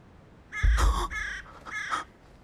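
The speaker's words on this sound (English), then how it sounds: "Scary crow." A crow caws outdoors in a wintry woodland, giving three harsh calls in quick succession, the first loudest and the last slightly softer, with nothing else audible around them.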